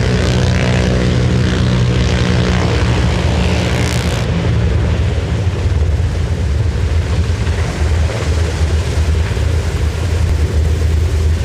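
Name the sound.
MH-60 helicopter hovering above a yacht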